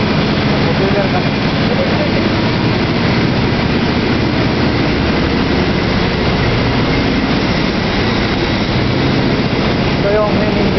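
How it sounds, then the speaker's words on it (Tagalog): A ship's main engine runs with a continuous heavy low rumble and dense mechanical noise filling the engine room, holding steady throughout while someone talks over it. "Main engine ng barko."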